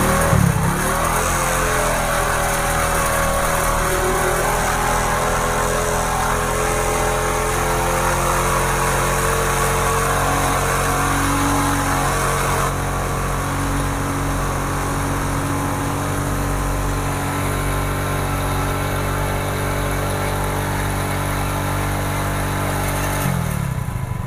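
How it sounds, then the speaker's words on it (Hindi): A Hero Splendor Pro motorcycle engine, with fresh engine oil added and oil not reaching the cylinder head, idles steadily and loudly up close for the whole stretch, a constant mechanical drone with no talking. "तो चलो बाइक को स्टार्ट करो"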